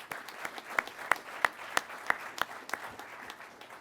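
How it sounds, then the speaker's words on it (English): A small group claps steadily at a pilot training graduation ceremony, sharp individual claps standing out in an even rhythm, moderately close with no voices. "let's give a round of applause to all of our support personnel."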